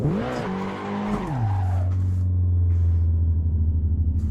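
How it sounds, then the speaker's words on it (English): In the racing game Assetto Corsa, a car engine roars and shifts pitch, then settles into a steady high drone as the tires spin and squeal through a drift. "As soon as you hear your wheels spin."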